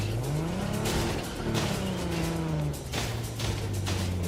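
A video-game car revs and accelerates with engine tones rising and falling, while tires squeal and skid in repeated bursts throughout, loud and continuous.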